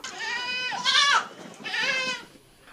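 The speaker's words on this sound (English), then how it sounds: "These are amongst the types of goats reared here." Boer and Savannah goats bleat on a farm: two loud, wavering bleats close by, one after the other with a short pause between.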